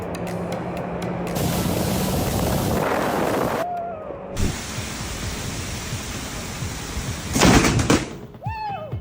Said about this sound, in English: The sound of rain falling gently like a lullaby, until lightning roared and took over the entire stage.